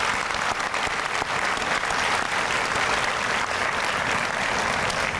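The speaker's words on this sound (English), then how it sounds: "So how about one more round of applause for Master Sergeant McLeod?" An audience at a spring graduation ceremony on a college campus gives a sustained round of applause, dense and even from start to finish, with no pause.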